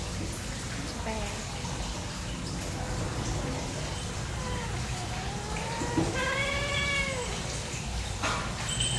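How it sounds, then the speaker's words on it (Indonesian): Cats yowling and wailing in long rising and falling cries over a noisy background, with a burst of harmonic howling near the end. "kucing berantem."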